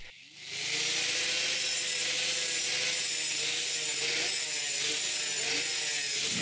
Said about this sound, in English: I also scratch some blocks to make sure the mortar will stick to them.